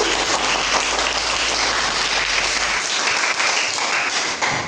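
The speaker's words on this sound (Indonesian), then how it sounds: "kita akan memberikan aplaus untuk diri kita sendiri" Sustained applause from a classroom group during a lesson on osmosis, dense and continuous throughout with no talking, slightly thinning near the end.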